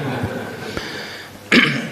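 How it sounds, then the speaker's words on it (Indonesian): A preacher delivering an Islamic sermon to a congregation lets out a few short coughs and throat-clearing sounds, one faint, one mid-clip and a louder sharp burst near the end, close to the microphone. "Apalagi ustadznya udah batuk-batuk terus."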